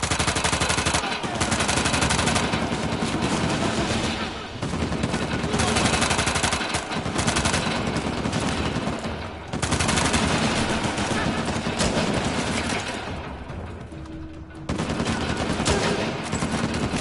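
Dense bursts of gunfire fill a shootout in the video game Uncharted, with rapid automatic volleys and overlapping shots that come loud and nearly continuous, broken by brief pauses, while a player's voice occasionally speaks beneath the din.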